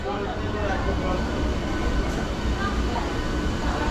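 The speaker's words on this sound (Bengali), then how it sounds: "এই হচ্ছে মেচেদা থেকে আমাদের ট্রেন ছেড়ে দিল" Local train on the Howrah–Digha line pulling out of Mecheda station, a steady loud rumble of carriage noise and track hum filling the whole stretch, with voices faintly mixed in.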